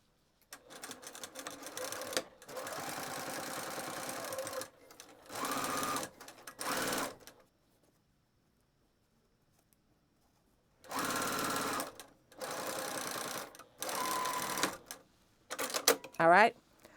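A sewing machine stitches along the bottom of a fabric pouch with a quarter-inch seam allowance and a 3.5 stitch setting. It runs in several steady, close bursts of a few seconds each, separated by pauses and one long silence.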